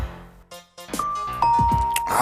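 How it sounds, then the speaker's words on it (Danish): Doorbell at a front door rung insistently, several quick ding-dong chimes in succession, close and clear, with a brief sound of movement at the start. "vækket af en hissig brug af hans ringeklokke"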